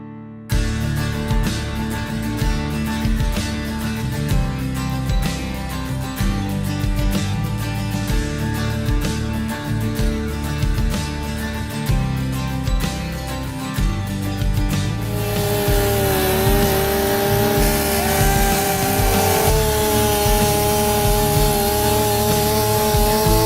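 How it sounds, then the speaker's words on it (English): A chainsaw cutting a tree into small pieces roars loud and steady throughout, its engine pitch shifting partway through as it keeps cutting. "We're going to cut that tree down into small pieces. Using the chainsaw was awesome."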